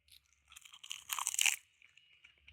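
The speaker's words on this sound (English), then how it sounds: "It's so crunchy, and unlike the normal kales, they are quite chewy and bitter" Close crunching bites and chewing of fresh raw Chinese red kale, a few crisp crackling bursts rising to a loud peak mid-way, then softer chewing, alone without talk.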